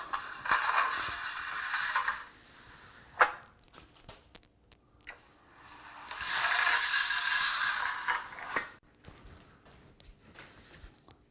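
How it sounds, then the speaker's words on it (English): A trowel scrapes over a nearly dry concrete countertop surface, giving rough hissing strokes close by, with two longer scraping passes, sharp knocks between them and quieter gaps. "You can hear that surface is dry because we are very near completion."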